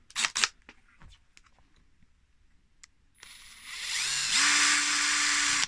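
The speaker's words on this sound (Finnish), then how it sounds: "No ala poraamaan." A few sharp clicks, then an electric drill whirs up loudly and holds a steady high whine as it bores into plastic, its motor pitch rising partway through.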